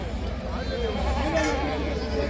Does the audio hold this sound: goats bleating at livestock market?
yes